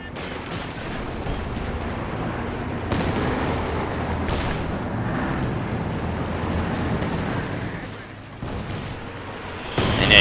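Katyusha rocket artillery barrage in the World War II strategy game Company of Heroes 2: a continuous roar of explosions and booming impacts pounding steadily throughout, with a few sharper blasts standing out.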